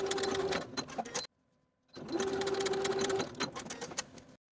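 A sewing machine stitches a blouse facing to the seam allowance at a V neckline in two steady whirring runs, close and even, separated by a brief pause of near silence.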